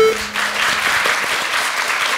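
An audience at a youth town-hall meeting with lawmaker Pyo Chang-won breaks into a short, full burst of applause. The clapping is even and sustained throughout, with no voices over it.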